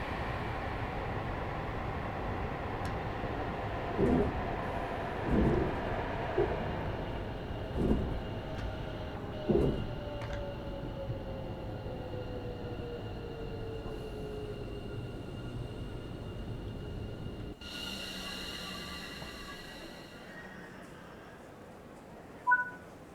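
Train on the West Coast Main Line in Train Sim World 5, a steady rumbling run with rhythmic clunks of wheels over rail joints, then a sudden brighter roar as the sound shifts near the end.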